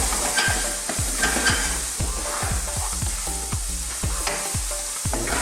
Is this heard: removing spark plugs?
no